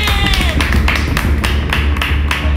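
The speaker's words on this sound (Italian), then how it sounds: "Applaudite un po' meno che magari ci gira male il serpente" An audience clapping during a snake challenge, a steady run of close, sharp hand claps with a faint crowd murmur underneath.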